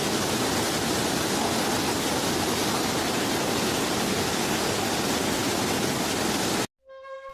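Mabudil waterfall in Ifugao, Philippines, roars as a steady, loud broadband rush of falling water that continues without a break and then cuts off abruptly near the end.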